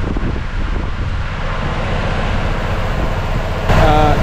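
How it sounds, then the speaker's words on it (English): Strong typhoon wind with torrential rain during a stop on a motorcycle tour in Vietnam, a loud continuous roar buffeting the microphone, swelling sharply near the end. "Very windy."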